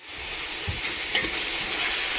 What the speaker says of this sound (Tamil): வெங்காயம் தக்காளிலாம் போட்டு நல்லா வதக்கினே இருக்கும்